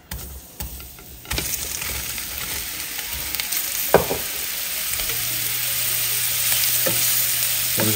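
Meatballs sizzle in a preheated, oiled skillet on medium heat, a steady broad fry that holds through the stretch with a few sharp clinks and spatters, close by and with no voices.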